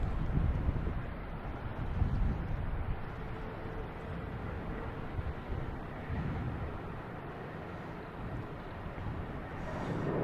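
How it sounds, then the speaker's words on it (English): A Delta Embraer E175 departing Boston Logan for LaGuardia produces a continuous low roar and rumble, fairly distant and blended with wind noise across the microphone, sustained throughout without speech. "We have Delta taking off to LaGuardia in E175."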